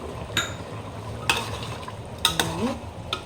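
Cooked chicken with lemon juice stirred in a pan: four sharp utensil scrapes and knocks spaced about a second apart over a soft, quiet sizzle, close by, with no voices.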